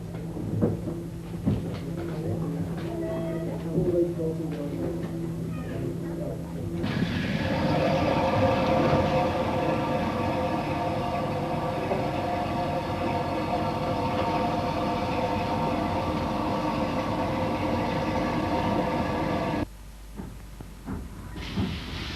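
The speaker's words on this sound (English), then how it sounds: "Back at Bewdley, a GWR Hall-class loco departs with another train to Kidderminster Town." A GWR Hall-class steam locomotive departs Bewdley with a train for Kidderminster Town, a loud, sustained rumble and hiss of moving carriages close by, fading abruptly near the end.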